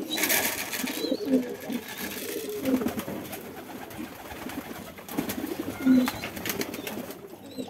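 Pigeons coo in a few soft, low rolling phrases from close by, recurring about every one and a half to three seconds over a faint background murmur.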